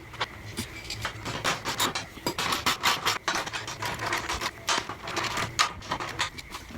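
Bolting down the base of a homemade wooden cutting dummy, with a continuous stretch of close ratcheting, scraping and knocking mechanical noise and no talking.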